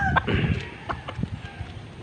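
Black Bonanza gamefowl rooster, a Crinos crossed with beans black, giving a few close, short clucks and throaty calls in a farmyard setting.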